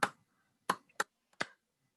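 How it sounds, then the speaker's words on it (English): A few sharp, separate hand claps, loud and close, spaced irregularly across about two seconds with silence between, during a laughter therapy session. "So after you do these kids activities, you start clapping."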